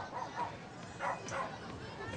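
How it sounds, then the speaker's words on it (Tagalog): A dog barks from indoors near a window, several faint, distant yips and barks spread over a couple of seconds beneath a murmur of people talking. "Ano ba yung tumatahol?"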